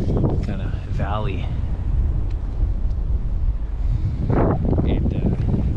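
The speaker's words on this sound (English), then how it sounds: "It's unfortunate it's so windy right now" Heavy wind buffets the microphone with a constant low rumble in an open valley on a mule deer hunt, while faint voices come through briefly beneath the roar.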